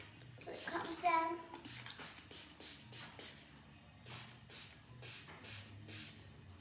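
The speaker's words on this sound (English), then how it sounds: "I filled it up with water when it finished, so I could just spray my hair with water." A spray bottle filled with water mists hair in a quick series of short hissing spritzes, close and fairly quiet, with a voice briefly heard near the start.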